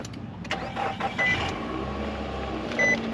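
A Nissan Altima engine running as the car gets under way at a dealers-only auction lot, a steady mid-pitched rumble with a few brief louder bumps, close by and with no talking.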